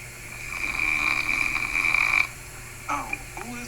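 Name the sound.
person snoring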